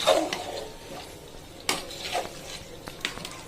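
Meat for biryani being stirred and sautéed in a pot of oil, with a soft steady sizzle, scraping spoon strokes against the pot and a few sharper clinks, close by with no talking.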